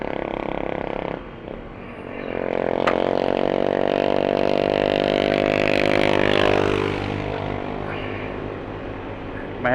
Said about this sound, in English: that tricycle sounds tedious